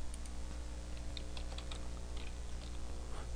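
Keys on a computer keyboard tap in quick, uneven bursts while text is entered into a PowerPoint slide, faint clicks sitting over a steady background hum, with no speech.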